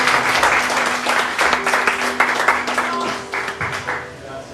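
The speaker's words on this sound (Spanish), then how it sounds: "Denle un fuerte aplauso al Señor." A church congregation claps and applauds steadily, dense and loud, with voices and a sustained tone underneath, tapering slightly toward the end.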